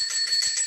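A small bell rings out for an audience question during a construction industry talk, a brief bright metallic ring with a rapid trill, close and clear with no talk over it.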